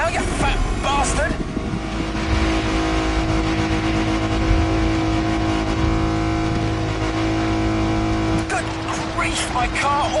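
A car engine roars at high speed off-road in the racing game The Crew Motorfest, steady and loud, with engine pitch shifting and a few sharp effects.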